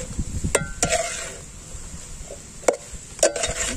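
A utensil scrapes and clinks against a pan in a few sharp strikes over a low sizzle while stirring cauliflower and egg with soy sauce, with quiet gaps between stirs.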